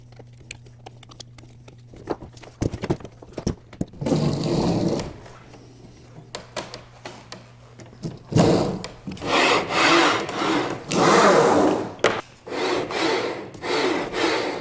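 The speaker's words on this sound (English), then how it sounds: "we're going to have a nice rolling sled" A sled rolls back and forth on its rails after its screws are tightened, giving a series of close rumbling, rubbing passes that grow louder and more continuous after faint earlier clicks.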